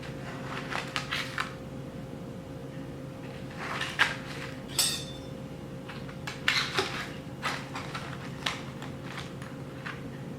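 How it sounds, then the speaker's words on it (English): Knife cutting into a chilled, firmed-up no-bake cherry pie made from drink mix, heard as a series of soft scraping and tapping strokes against a dish, close and fairly quiet over a steady background hum. "what I'm going to do now is slice into it, take a little piece"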